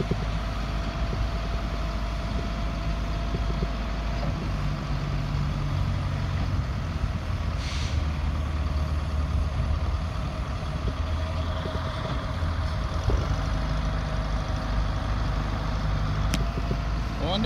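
Engine of a Trackmobile rail car mover running steadily on rail, a continuous low rumble and hum close by with slight changes as it moves off, while a voice talks over it.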